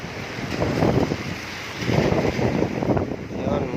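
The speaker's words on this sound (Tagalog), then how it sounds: "lumakas ng hangin" Strong typhoon wind on a street in Cebu City, Philippines, buffets the microphone in loud, rushing gusts that rise and fall, with a short lull in the middle.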